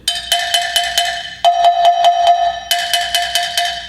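A cowbell is struck in a quick steady rhythm, alternating between higher-pitched hits toward the closed end and a lower-pitched run near the open mouth, loud and close.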